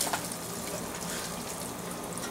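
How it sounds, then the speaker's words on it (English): A bucket of ice water poured over a person during an ALS Ice Bucket Challenge, producing a loud continuous splashing gush that fills the whole moment. "now I have to pour ice water on myself"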